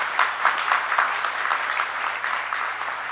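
Audience applause at a manufacturing industry summit, a steady wash of many hands clapping from a moderately distant crowd, fairly even and sustained throughout.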